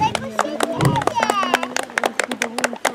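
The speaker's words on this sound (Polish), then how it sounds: "Prosimy o cichutkie brawa." Quiet applause at an outdoor Hubertus hunt gathering: a light scatter of claps, sharp and irregular, with a voice and crowd murmur over them.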